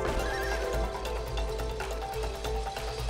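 A horse neighs and whinnies over steady clip-clopping hooves and a dense, continuous game soundscape, loud and close, in the video game It Takes Two.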